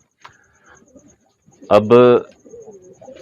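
Pigeons coo softly at close range, with one fuller, louder coo partway through, while someone briefly speaks nearby.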